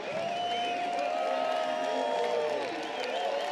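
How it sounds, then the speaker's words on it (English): Fans at Crankworx Whistler cheer and shout steadily during the Red Bull Joyride slopestyle event, a dense, continuous crowd roar with whistles and whoops rising over it. "You can hear the fans though."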